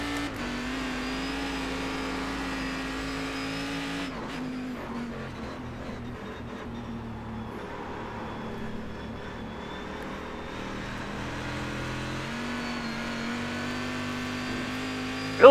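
Cadillac CTS-V.R race car engine in the iRacing sim at Sonoma, a steady droning engine note that rises and falls through gear changes and corners, running alone without talk.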